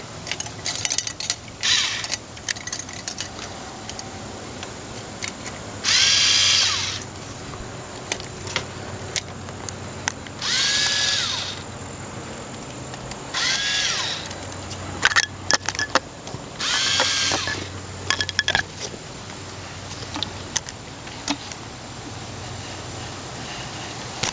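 A power tool drives a hose clamp tight on the air intake of a Monte Carlo SS during a short ram install, with several loud whirring bursts of a few seconds each between small clinks and handling noises.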